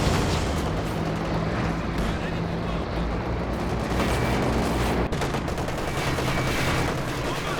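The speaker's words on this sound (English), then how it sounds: "While starting up the barrage on the MG." Artillery barrage in Company of Heroes 2 firing amid a busy battle, with dense overlapping gunfire and booms forming a continuous loud roar and a sharp blast partway through, under a voice talking throughout.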